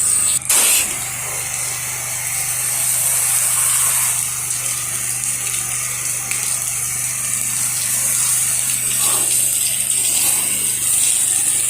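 A pressure washer sprays water across the front of a house during a soft-washing job, a steady, loud broadband hiss with a low motor hum underneath, running continuously without talk.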